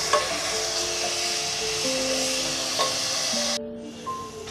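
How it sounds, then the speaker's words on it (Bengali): Chopped onions fry in soybean oil, a steady close sizzle with faint stirring, holding for several seconds before cutting off abruptly near the end into quieter background. "পেঁয়াজ কুচিটা আমি হালকা ব্রাউন কালার না হওয়া পর্যন্ত তেলে ভেজে নেব।"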